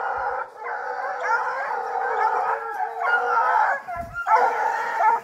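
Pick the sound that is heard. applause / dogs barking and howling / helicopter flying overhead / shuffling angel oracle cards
dogs barking and howling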